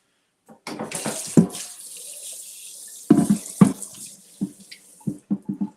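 Potatoes being rinsed under a running kitchen tap in a sink, water gushing and splattering in bursts with pauses between, close and loud, no talk.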